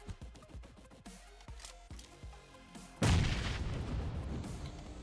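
Grenades explode during a PUBG match, a rapid series of sharp booming blasts followed by one big close detonation with a long rumbling tail.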